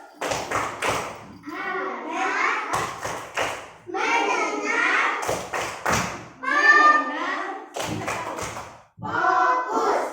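Fourth-grade pupils perform a rhythmic focus clap, clusters of crisp hand claps in a set pattern interleaved with the children's chanted phrases, fairly close in a classroom.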